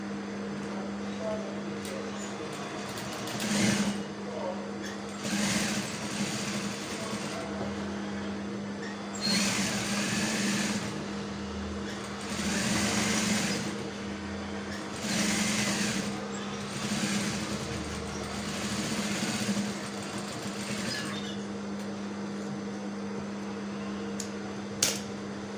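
A sewing machine stitching neck piping on a garment runs in several short motor bursts of a few seconds each, with a steady hum throughout and speech in between.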